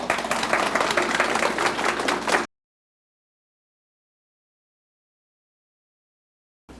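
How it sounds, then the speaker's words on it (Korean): An audience at a Chicago Korean community association president candidates' debate claps steadily, loud and dense, for about two and a half seconds before silence. "여러분 큰 박수 바라겠습니다"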